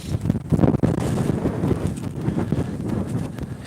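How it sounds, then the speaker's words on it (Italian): Cold wind blows across a countryside field and buffets the microphone in loud, continuous gusts, with no voices. "C'è un vento oggi freddissimo"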